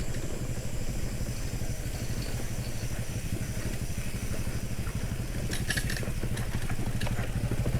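A motorcycle engine idles close by with a steady, pulsing chug during a night ride at a bike park, and a few brief clatters come through near the end.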